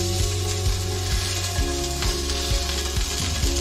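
Small pan-fried chicken nuggets, rosemary-flavoured, sizzle in a pan with a steady crackle, broken by a series of low thumps as pieces are moved about.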